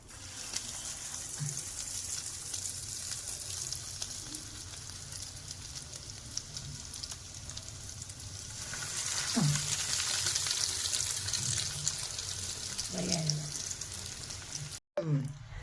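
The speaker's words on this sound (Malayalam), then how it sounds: "അപ്പോൾ നമുക്ക് ഇനി ഇതൊന്ന് ഫ്രൈ ചെയ്തെടുക്കണം." Breadcrumb-coated pieces frying in oil in a pan give a steady, close sizzle throughout, swelling louder midway, with a few faint knocks of utensils against the pan.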